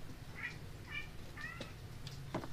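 A cat meows softly several times, short rising mews spaced about half a second apart, faint against quiet room noise.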